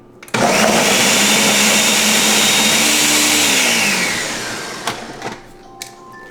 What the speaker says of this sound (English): My smoothie. I hate blenders.